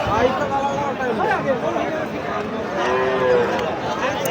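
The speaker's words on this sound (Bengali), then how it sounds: "এখানে দুইটি গাভী দেখতেছি দর্শক, একেবারে দুইটি গাভী, দেশি গাভী, দেখতে থাকেন।" Native cows at a busy rural cattle market in Naogaon, with low mooing calls rising through a constant din of crowd babble and someone talking nearby.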